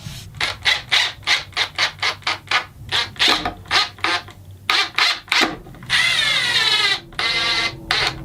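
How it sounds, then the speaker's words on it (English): Hand sanding a quilted maple bass guitar body with 600 grit sandpaper, close rhythmic back-and-forth rubbing strokes in quick bursts, followed by a longer continuous scrubbing passage. "I just grabbed some 600 grit paper and lightly sanded them nice and smooth"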